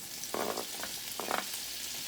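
Sausage goes into hot bacon grease in a pan, setting off two loud bursts of sizzling over a softer, continuous frying hiss.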